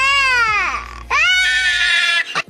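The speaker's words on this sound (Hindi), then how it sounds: "फिर सफेद बच्चा खुद को पानी में देखता है और जोर जोर से रोता है।" An animated cartoon child cries loudly in two long wailing bursts with falling pitch, followed by a short sob at the end, heard alone without talk.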